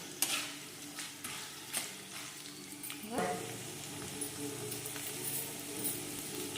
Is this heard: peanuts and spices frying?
yes